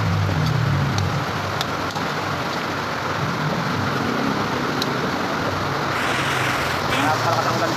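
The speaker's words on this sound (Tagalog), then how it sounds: "Napakalakas ang ulan dito." Heavy rain pours down in a steady, loud, dense hiss that fills the whole scene without letup, with faint background noise underneath.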